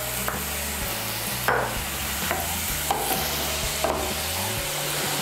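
Chopped medium tomato and spice paste stirred and fried in a pan, a steady sizzle with repeated scraping stirs every second or so, close and alone with no talking.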